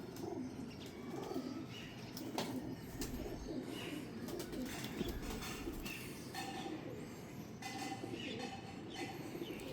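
Pigeons coo at a loft show of dubbed and golden breeder birds, soft throaty calls repeating over a busy, noisy background with some chirps and clatter, no talk.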